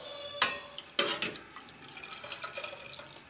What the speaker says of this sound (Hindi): बर्फ़ वाला पानी 1 कप इसमें अब और शामिल कर देना है।